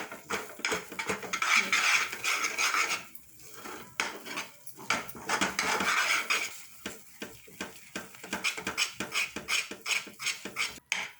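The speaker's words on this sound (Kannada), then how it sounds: "ಇದಕ್ಕೊಂದು ಸ್ಪೂನ್ ತುಪ್ಪ ಹಾಕಿ ಮತ್ತೆ ಹೀಗೆ ತಿರುಗಿಸ್ತಾ ಇರಬೇಕು" A spoon stirs dudh peda mixture with ghee in a pan, making continuous scraping and clinking against the metal in quick uneven strokes, close and fairly loud.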